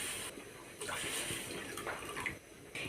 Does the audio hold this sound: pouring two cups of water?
yes